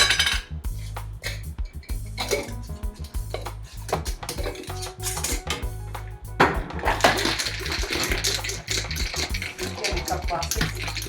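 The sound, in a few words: ice cubes being shaken in a cocktail shaker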